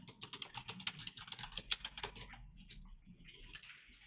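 Quick clusters of keystrokes tap on a computer keyboard, close and fairly quiet, with a short pause partway through before the typing resumes.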